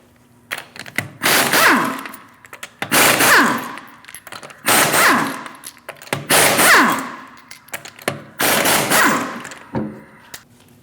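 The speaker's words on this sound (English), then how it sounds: "Remove the 5 lug nuts using a 19mm socket." Five long bursts of a pneumatic impact wrench with a 19mm socket spinning lug nuts off a rear wheel of a Chevrolet Malibu, loud and close, with short pauses between each nut.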